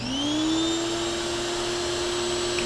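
A Harbor Freight Bauer 2000psi electric pressure washer running, a steady loud motor whine with a high pitched tone that rises slightly as it spins up, continuous and alone.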